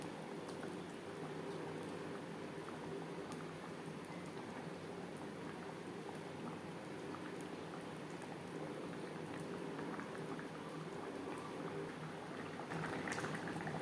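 Rohu fish curry with pointed gourd and tomato simmers in a pot, giving a soft, steady bubbling that holds evenly throughout, faint and close, with no voices.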